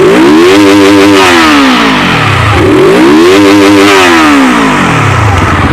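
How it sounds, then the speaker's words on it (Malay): A Morbidelli F252 motorcycle engine revs hard twice, each rise climbing to a loud roar before dropping back to a rumbling idle, close by and alone. "So jom kita rev sikit motor ni."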